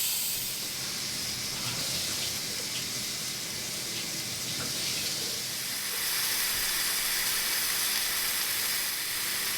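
Steady steam hiss from a pressure cooker on the stove cooking beans, a continuous broadband rush that holds level and swells slightly louder toward the end, with no talking.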